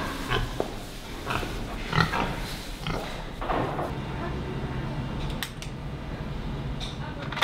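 Young genetically modified pigs in a research pen give off scattered grunts and short squeals at moderate volume, mixed with shuffling and creaking, and faint voices in the background.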